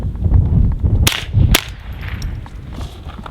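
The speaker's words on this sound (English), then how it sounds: "I'm going to go ahead and fire 2 into the berm so people can hear it" Two sharp, subdued cracks from an integrally suppressed Ruger 10/22 rifle fired into a dirt berm outdoors, spaced about half a second apart over low background rumble.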